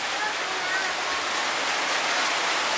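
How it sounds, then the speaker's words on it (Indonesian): Heavy rain pours steadily over an outdoor market stall in Manado, a dense, even hiss filling the whole stretch without letup, with people talking faintly underneath. "Deras ini hujan nih."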